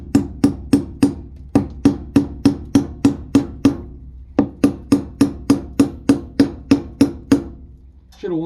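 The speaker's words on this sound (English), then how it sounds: "hopefully I can hammer this into the joist" A hammer strikes a metal pipe hanger into a wooden basement joist in quick, even blows, about twenty sharp knocks in two runs with a short pause between them, loud and close.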